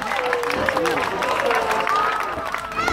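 An audience at a live show in Formello, Rome, applauds an actress called to centre stage, a dense wash of clapping and crowd noise with a voice talking over it.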